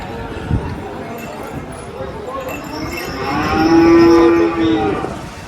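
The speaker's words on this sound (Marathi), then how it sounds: "पॉवरफुल गाय आहे मित्रांनो" A Holstein Friesian cow lets out a long, loud moo amid a busy cattle market crowd in Dhule, with voices chatting and scattered hoof clatter in the background.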